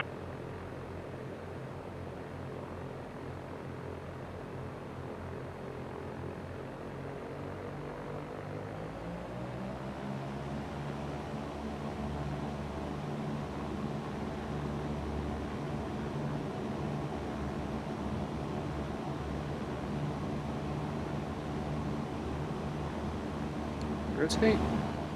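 A simulated Cessna propeller engine drones steadily in X-Plane, its pitch and loudness rising as power comes up for takeoff, a continuous hum with a brief click near the end.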